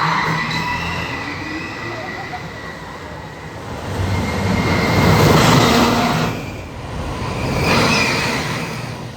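The Possessed roller coaster at Dorney Park launches and races along its track, a loud rumbling rush with rising and falling surges and a high whine, close by, with a faint voice under the noise.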